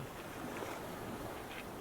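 A small sailboat sailing solo at sea between Portugal and Tenerife surfs down waves at 7-8 knots, giving a steady faint rush of water and wind noise without any voices.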